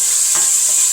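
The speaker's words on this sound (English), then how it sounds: "I'm gonna go ahead and add my garlic, fresh garlic." Fresh garlic hits a hot pan for an Afro-Caribbean seafood dish, giving a loud, close, continuous hiss that stays even through the short moment, with no voices.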